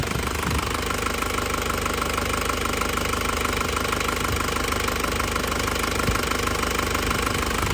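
A 2002 Panther LS with automatic transmission idles with its engine hot, a steady rough diesel-like clatter with rhythmic knocking pulses, close and constant with no talk.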